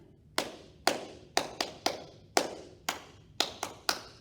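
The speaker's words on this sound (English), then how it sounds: "Now we're going to clap 5 times" Hands clap sharply in an uneven series of about ten claps, some quick doubles, fairly close with short decays, at a children's storytime in Goochland.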